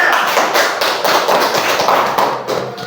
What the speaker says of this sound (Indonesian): Silakan tepuk tangan untuk kelompok A.